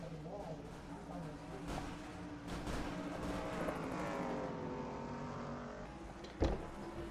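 Racing trucks at a Daytona rallycross event, engines droning and shifting pitch as they run close together, with an announcer talking over the steady roar and a sharp knock near the end.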